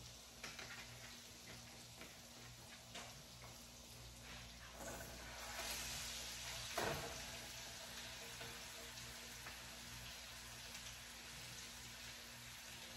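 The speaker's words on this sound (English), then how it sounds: "Okay guys, steak is starting to cook" Steak seasoned with garlic salt sizzles steadily in a hot pan, a continuous crackling hiss that stays fairly quiet throughout, swelling slightly midway with a brief sharper burst.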